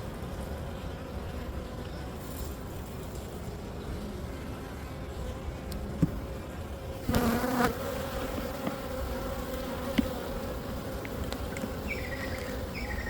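Honeybees buzz steadily around an open hive during an inspection, a dense close drone with occasional knocks and handling sounds, and no talking.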